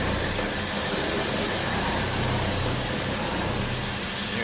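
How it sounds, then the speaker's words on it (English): A Hem 1200 LAS 16 x 20 inch bandsaw cutting with a blade that has bad teeth gives a steady, loud mechanical rumble under a constant broadband hiss, continuous throughout with no voices. "You hear that blade rumbling as it goes through the bad teeth"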